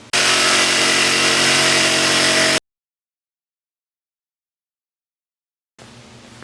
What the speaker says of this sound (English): Got our guide jig set up using a jigsaw to make the circle.